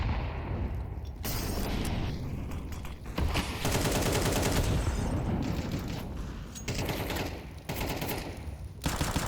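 Pistol gunfire in a Counter-Strike match on the Inferno map, dense overlapping shots and booms across a busy, loud firefight with almost no pauses.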